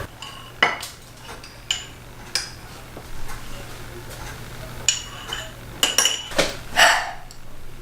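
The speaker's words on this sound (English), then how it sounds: "So we're going to need our egg yolk." Egg being cracked and a yolk separated for a mug cake, giving several sharp clinks and taps of shell and bowl, close and fairly loud, spread irregularly across a quiet kitchen.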